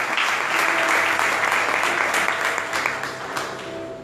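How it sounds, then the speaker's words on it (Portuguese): An audience at a church sermon applauds, a dense, loud wash of clapping that holds steady and then eases slightly toward the end. "Você pode aplaudir ao Senhor depois."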